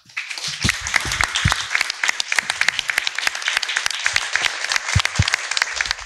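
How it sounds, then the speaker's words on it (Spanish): Sustained applause from a large crowd, dense and steady clapping that fills the whole stretch without pause. "y para ello nuestro fuerte aplauso."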